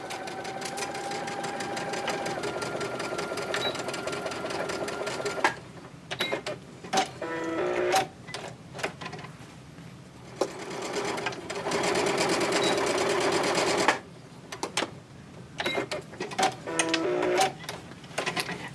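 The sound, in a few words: sewing machine stitching a row of quilt pieces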